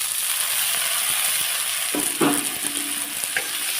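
Tomato and green chili hit hot oil with chopped onion in a pan, giving a loud, steady close sizzle with a few stirring scrapes in the second half.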